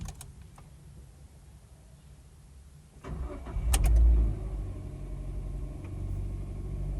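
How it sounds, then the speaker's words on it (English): A 2010 Mazda2 engine, just after EGR cleaning and spark plug replacement, is quiet at first, then cranks and catches about three seconds in before settling into a steady, close idle rumble. "So remove the key and start the engine."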